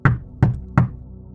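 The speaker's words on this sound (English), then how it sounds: "I was drying off when I heard a knock on the door." Three firm knocks on a motel door, evenly spaced about a third of a second apart, close and distinct with quiet between them.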